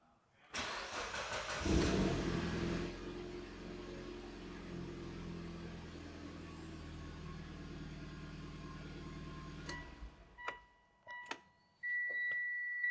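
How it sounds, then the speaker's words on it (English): A Mitsubishi Evo X engine cranks and catches at close range, then settles into a steady, even idle for several seconds before cutting off, followed by a few clicks and a faint electronic tone. "Now we'll be able to start our car."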